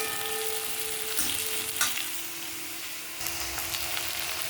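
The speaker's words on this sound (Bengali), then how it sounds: "টমেটোটা একটু ভাজা ভাজা করে নেব।" Chopped tomatoes with green chillies fry in a pan over cooked onions for a Bengali rohu fish curry, giving a steady close sizzle with brief stirring scrapes and a soft kitchen hum underneath.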